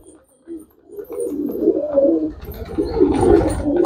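A pigeon coos nearby in low, rolling, throaty phrases that repeat and swell over a few seconds, close and fairly loud, with no speech over it.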